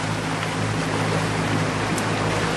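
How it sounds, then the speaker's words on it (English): A sailboat's engine runs steadily in the background, a low constant hum with tonal drone under broadband washing noise, no voices. "As you can tell, the engine is running now. You can hear it in the background"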